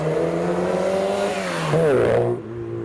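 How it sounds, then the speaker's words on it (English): A supercharged Mini drives past on a road lined with custom cars, its engine note climbing and holding steady, then swelling loudly with a whining rev as it passes close before dropping away. "Next up, we've got a pretty speedy Mini. I think it's supercharged."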